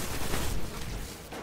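Continuous gunfire from the player's weapon in the video game Destiny, a dense, loud roar of rapid shots blurring together with no clear gaps.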